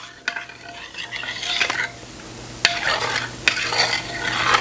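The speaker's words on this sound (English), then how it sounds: "You want to stir it constantly if you decide to make your own vanilla pudding." Homemade vanilla pudding is stirred constantly in a pot over medium heat, with close, repeated metallic scrapes and taps of a utensil against the pot over a soft bubbling hiss.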